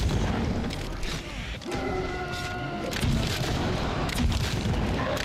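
Pistol gunshots in the horror game Sker Ritual: a few booming shots with rumbling tails, fairly loud over a busy game soundscape, with a voice talking at times.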